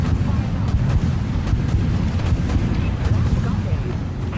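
A destroyer's rapid-fire guns and torpedo launches in the warship game Dreadnought, heard as a dense, continuous rumble of heavy booming shots close and loud, with a voice talking over it.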